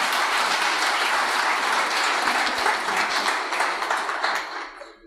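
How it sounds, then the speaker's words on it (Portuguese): Audience applause at a Sunday church Mass with testimonies, a dense steady clapping that fills the space for several seconds before fading out at the end, with no speech over it. "Vamos dar uma salva de palmas para que eles merecem."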